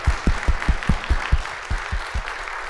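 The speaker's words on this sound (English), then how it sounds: "if you'd please join me in applauding Dave and Mike." Audience applause at an annual general meeting, a burst of hand claps in a loose rhythm over about three seconds, moderately loud and close, with no talking over it.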